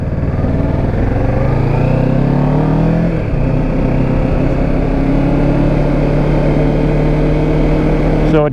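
A 2017 Kawasaki Ninja 650 motorcycle pulls away from traffic lights and accelerates hard to 60, its engine rising loud and close through the gears under heavy wind buffeting.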